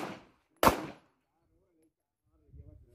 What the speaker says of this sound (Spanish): Tiradores, a mi voz, segundo disparo.